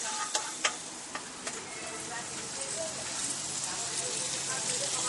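Vegetables sizzling and frying in a pan for an Ayvalık-style toast or dürüm, a steady crackling hiss that holds throughout with a few sharp clinks of a utensil near the start.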